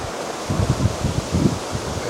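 Gusty wind blows on a riverbank on the Hampshire Avon at Britford during perch fishing. It sounds as a close, pulsing low rumble against the microphone over a steady rushing hiss.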